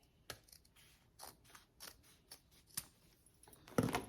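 Scissors snipping ribbon, a string of crisp separate cuts at an uneven pace, close and quiet, ending in a louder final snip.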